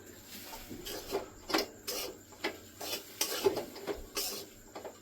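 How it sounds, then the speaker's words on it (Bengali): Beetroot pulp is being stirred into a ladoo mixture in a pan, with a spoon scraping and rubbing in soft, uneven strokes at close range, quiet and without speech. "বিটের পাল্প একটু দিয়ে দেবো, অল্প অল্প দেবো, মেশাতে থাকবো।"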